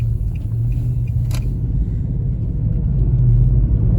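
An Infiniti or Nissan with a cylinder misfire driven at full throttle, a loud steady low engine and road rumble heard from inside the car, continuous throughout.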